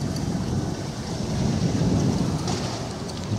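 Strong wind buffets an open-air pike fishing spot in cold, biting weather, a steady broadband roar with gusts swelling and easing throughout, loud and close with no voices.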